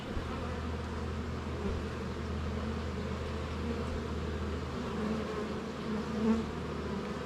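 Honey bees swarm and buzz in a steady, dense drone around opened hive frames of drone brood and open brood, close and continuous with no voices.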